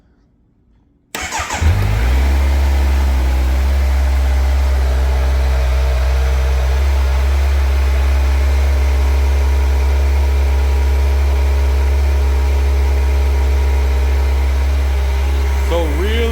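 A 2024 Kawasaki Z900 motorcycle with its stock exhaust starts after a moment of silence, then settles into a steady, fairly quiet idle that holds close and unchanged for the rest of the clip.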